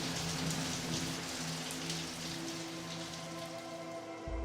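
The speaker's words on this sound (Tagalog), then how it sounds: "Patuloy sa pagbuhos ang malakas na ulan." Heavy rain pours steadily in a rural village, a dense continuous hiss of drops striking surfaces with a low steady rumble underneath, loud and unbroken throughout.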